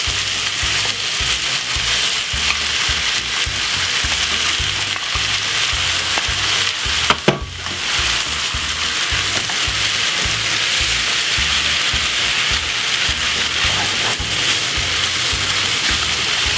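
Tuna is added to vegetables frying in a pan for a pasta and tuna dish, filling the space with a loud, steady crackling sizzle and one brief sharper clatter midway.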